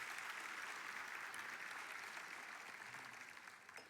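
A church congregation applauds, a dense, even wash of clapping that holds steady and then slowly fades toward the end, with no talking.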